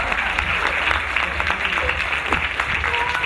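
Comedy show audience applauding, a loud, close, continuous round of clapping from many hands with a low hum underneath and faint voices within the crowd.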